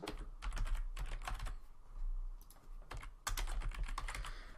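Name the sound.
typing keywords on a computer keyboard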